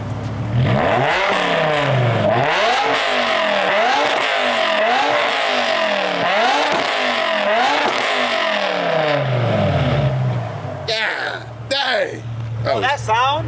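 A BMW E60 M5 engine revs repeatedly in loud, rising and falling bursts, growling up and down for several seconds before a few sharp blips near the end.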